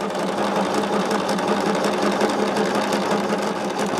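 A sewing machine stitches quilt pieces together in a continuous, fast, even whirring run, close and loud with no talking.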